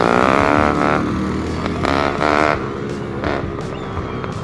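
A small engine fitted to a converted BMX bicycle runs loud and close, a continuous buzzing drone that rises and falls in pitch as it revs.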